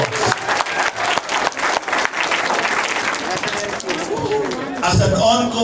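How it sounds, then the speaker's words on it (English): Applause from a crowd at a Filipino-American bowling tournament event, dense clapping for several seconds that thins out into chatter and hall noise toward the end. "Let's give them a round of applause"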